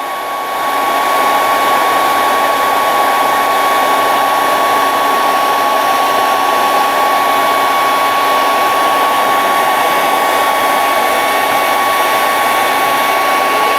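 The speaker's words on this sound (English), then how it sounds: "You can see this hairdryer is hot enough to do this big piece of shrink wrap." A hair dryer blows hot air onto a big piece of shrink wrap on a model bust build, a loud steady whirring roar with a fixed whine that runs unbroken for the whole span, close to the mic with no talk.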